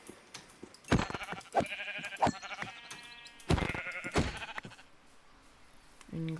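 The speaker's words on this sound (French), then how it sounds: "On a des petits moutons là, voilà." Sheep bleating in the Minecraft video game, several short nasal bleats spaced across a few seconds over soft game ambience, with a faint chime near the end.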